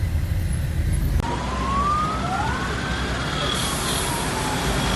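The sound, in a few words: fire engine siren at a car crash scene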